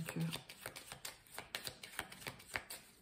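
Tarot cards are shuffled by hand with a rapid series of soft riffling flicks, close and quiet, alongside faint speech.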